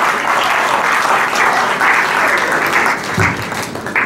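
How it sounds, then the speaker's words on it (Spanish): Loud, dense applause from a crowd, steady clapping filling the whole stretch without letup, a few claps standing out near the end. "Fuerte aplauso, señoras y señores"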